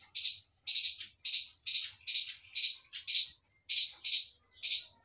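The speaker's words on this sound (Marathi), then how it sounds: "तर खारुताईचा आवाज आहे हा" A group of five or six squirrels chatter nearby in a rapid series of about ten sharp, high, squeaky calls. The calls come in evenly spaced bursts, loud and clear against otherwise silent surroundings.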